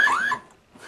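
A mini arcade coin cascade machine sounds its anti-tilt alarm, a short electronic tone that sweeps up in pitch, close and fairly loud, then cuts off, leaving a faint trailing sound.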